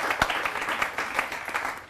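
An audience claps at a poetry show, a brief burst of fairly loud applause with a few sharper individual claps standing out from the steady wash.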